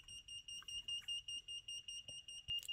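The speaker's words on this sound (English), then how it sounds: "that actually sounds like a legit buzzer, like an alarm clock or something" Arduino active buzzer on an Elegoo Uno R3 starter kit beeping in a fast, even series of short high-pitched tones, fairly quiet with faint background noise.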